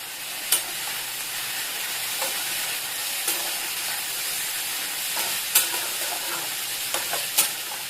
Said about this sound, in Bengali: এটা ঢাকনাটা তুলে একটু নাড়িয়ে দেবো। দিলাম পটলটা